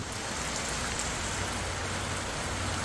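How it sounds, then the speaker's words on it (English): Pouring rain falls during a potato harvest, a dense, steady hiss of drops on surfaces that stays even throughout, heard from under cover with no talking. "Well, now it's pouring rain,"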